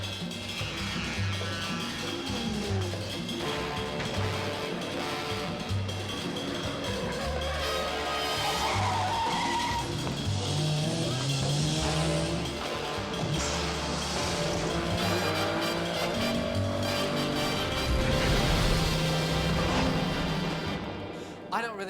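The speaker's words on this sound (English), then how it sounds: "Next, car chases." A movie car chase roars on continuously with loud engines, crashes, tire squeals and a heavy music score layered throughout, dense and unbroken from start to finish.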